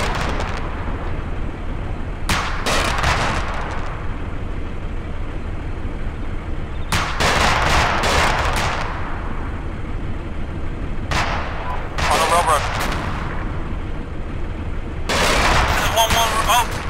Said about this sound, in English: looks like some sort of auto cannon.